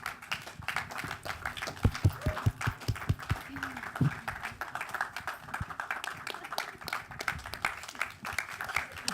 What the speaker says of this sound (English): Give them a round of applause as they're coming up